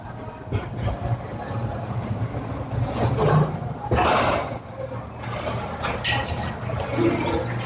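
Heavy 85-pound dumbbells clank and clink at a gym during a leg session, with irregular metallic knocks over a steady machine hum and louder bursts midway.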